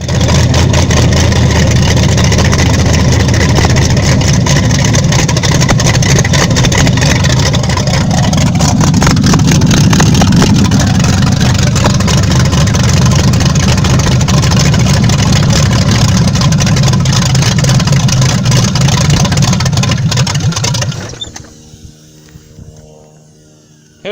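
A 1987 Camaro engine, running a one-wire alternator, roars close and loud for about twenty seconds with steady rumble and surging revs, then cuts off abruptly; no talking.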